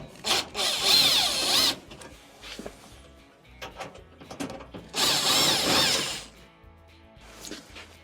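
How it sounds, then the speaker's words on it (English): A power drill backs out Phillips machine screws from the front panel of a clothes dryer, two loud whirring bursts with ratcheting clicks and quieter handling noises between them. "Remove the 2 Phillips screws."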